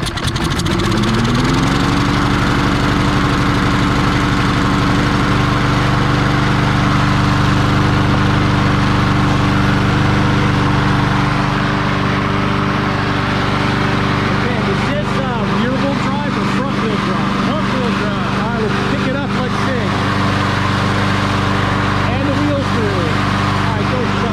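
A Troy-Bilt TB280ES lawn mower engine cranks, catches and settles into a steady, loud idle that drones continuously close by for the whole stretch, with people talking over it.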